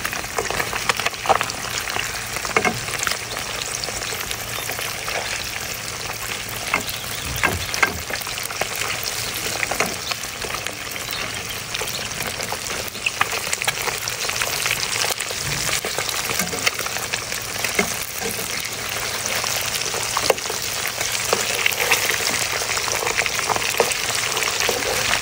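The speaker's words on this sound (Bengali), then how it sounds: "এবার সুন্দর মতো মাছটাকে ভেজে নেব।" Stinging catfish (shing fish) frying in hot oil, a dense, loud, continuous crackling sizzle that holds steady throughout, with occasional louder pops.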